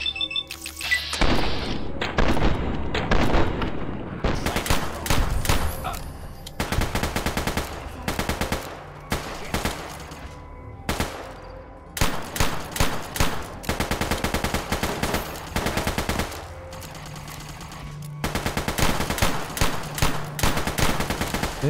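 Repeated bursts of automatic gunfire in modded Fallout New Vegas gameplay, loud clattering volleys broken by brief gaps, with occasional thuds and impacts.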